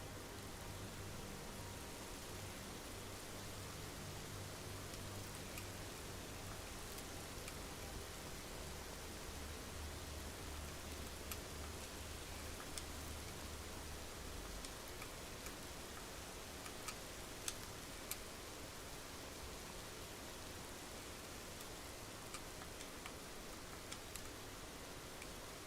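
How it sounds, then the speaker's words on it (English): Steady hissing rain in the video game Skyrim keeps up a dense, even wash of noise, with scattered faint ticks and patters of drops throughout, and no voices. "It sounds like it's raining in here."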